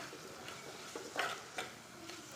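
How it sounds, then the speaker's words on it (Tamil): Onions for a sardine curry sauté on a low flame under a soft sizzle, while a spoon stirs them with a few scraping strokes against the pan, quiet and close. "வெங்காயம் ஆட் பண்ணியாச்சு இப்போ அதை நம்ம லைட்டாக வசக்க போகிறோம் கொஞ்சம் கலர் மாறுறது வரைக்கும் லோ ஃப்ளேமில் வச்சு வசக்கிக்கோங்க"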